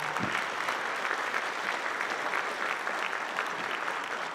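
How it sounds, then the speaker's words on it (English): Steady, full applause from a school auditorium audience at a high school spring band concert, dense continuous clapping held at an even level throughout. "So once again, one more round of applause for the two of them."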